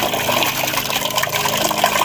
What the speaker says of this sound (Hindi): अभी देखो ठंडा ठंडा पानी गया इस पे